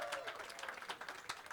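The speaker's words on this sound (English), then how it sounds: "Let's give Rob in the 4 seat a round of applause." Brief applause from a small audience at a live poker tournament aboard a cruise ship, greeting a player at the table with a steady patter of clapping against a faint room hum.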